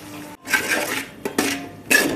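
A spoon scrapes and clinks around a pan of crab curry masala, in three short bursts of metallic stirring, fairly close and clear, with no one talking.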